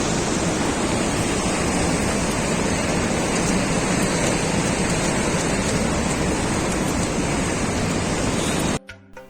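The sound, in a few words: meltwater from glacier snow flowing down mountain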